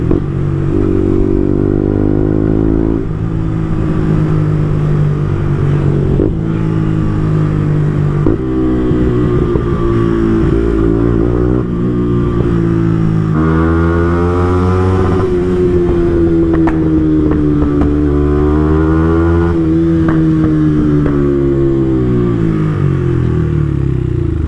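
A Yamaha R125 motorcycle engine revs and pulls steadily while riding, shifting through gears with rising and falling tones, loud and close throughout with no talk.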